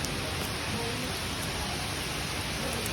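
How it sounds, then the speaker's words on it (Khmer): Steady rain pours down at a hillside temple, a dense, even hiss that fills the whole stretch without a break, close and fairly loud, with no voices standing out. "ដល់ពេលភ្លៀងនៅជ្រកភ្លៀងនៅក្នុងប្រាសាទតែម្ដង"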